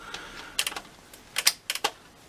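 Metal cable ties holding a NECA black-and-white Ultimate Frankenstein monster action figure in its packaging are snipped, giving a handful of sharp, close clicks in small clusters with quiet gaps between them.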